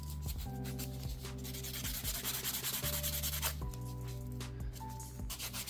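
Buffing block rubbed back and forth over cured glow-in-the-dark acrylic nails, a steady close scratchy sanding sound running throughout over a background of music.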